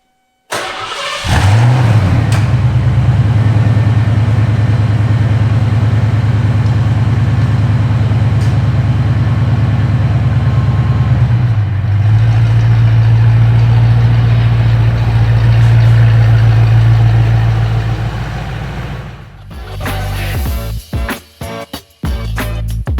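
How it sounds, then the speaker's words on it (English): A Foxbody Mustang with a swapped V8 starts and settles into a steady, loud idle with a deep low rumble, then a revving surge and clattering near the end. "start the car up"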